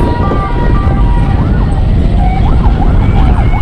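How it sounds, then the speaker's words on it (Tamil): A police car siren wails with rising and falling tones over loud traffic rumble, fairly close and continuous throughout, behind a line of ambulances amid crowds in Madurai before a Vijay political rally. "பேக்கில் போலீஸ் வண்டி"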